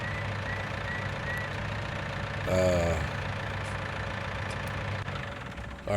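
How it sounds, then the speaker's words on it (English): A tractor engine idles in the farming game Farming Simulator 19, a steady low mechanical hum with a brief rising whine partway through. "let's get this tractor out here and see what happens"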